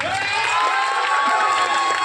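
A school audience cheers and claps at a debate between a gurukulam and a convent school, a steady, loud crowd roar with shouts and whoops layered over the clapping.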